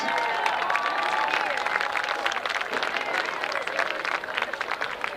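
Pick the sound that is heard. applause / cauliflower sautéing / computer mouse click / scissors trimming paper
applause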